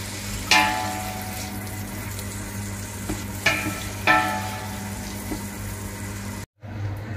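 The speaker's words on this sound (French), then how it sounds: "Maintenant, je mets les oignons. Et maintenant, nous n'avons plus qu'à mélanger." Onions and bacon lardons stirred as they fry in a pot for boeuf bourguignon, a steady close sizzle marked by a few sharp spoon knocks against the pot and a brief drop-out near the end.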